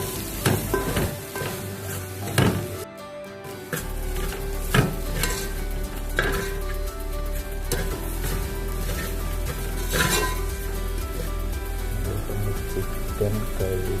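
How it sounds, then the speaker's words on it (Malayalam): Masala for an Alappuzha-style chicken curry is sautéed in a hot pan, making a steady, close sizzle broken by repeated spatula scrapes and clinks against the metal. "ഇനി ഇത് നന്നായി വഴറ്റിയെടുക്കണം."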